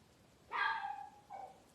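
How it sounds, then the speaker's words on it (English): A single dog barks once indoors in a home craft room, a sharp clear bark followed by a shorter softer yip, with quiet room tone around it. "Sorry, that's the dog."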